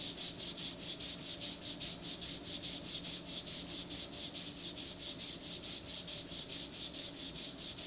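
A wooden rocket nose cone for an Estes Doorknob model is sanded by hand, giving a faint, steady rhythmic rasping of quick regular strokes.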